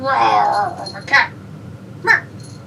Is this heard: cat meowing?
yes